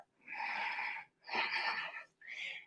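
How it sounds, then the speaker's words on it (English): Three deep, audible yoga breaths drawn close to the mic during a vinyasa flow, each a breathy, slightly wheezy rush of air lasting under a second, separated by short silent gaps. "Another 2 big breaths."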